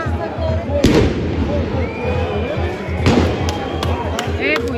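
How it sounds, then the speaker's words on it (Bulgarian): Firecrackers thrown by fans at a football stadium during a Chernomorets versus Beroe match go off in two sharp, loud bangs over a dense crowd roar, with a faint whistle between them. "Има малки дечица и мятат тия бомбички"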